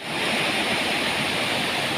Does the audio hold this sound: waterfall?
yes